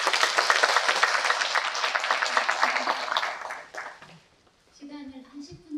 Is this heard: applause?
yes